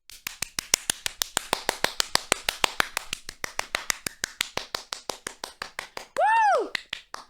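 A single person claps in a quick, steady rhythm of sharp, close, dry claps. A short loud whoop cuts in near the end.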